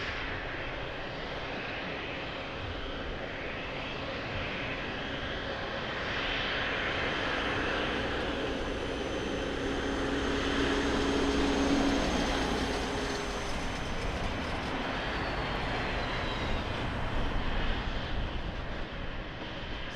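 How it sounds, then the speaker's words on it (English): A TAP Airbus A320 coming in from Brussels lands at Lisbon Airport, its broad jet roar building slowly to a peak past the midpoint and then easing, heard from a distance outdoors. "TAP coming in from Brussels. Airbus 320."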